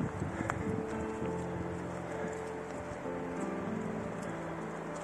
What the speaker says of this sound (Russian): Вот дождик опять что-то свет ветром сгоняет.